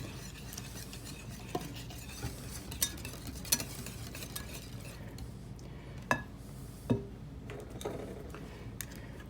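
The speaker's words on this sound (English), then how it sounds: "So, we're mixing up our mayonnaise." Homemade mayonnaise is mixed steadily in a bowl, producing a continuous soft swishing with occasional sharper clicks of the utensil against the bowl, quiet and close, with no talking.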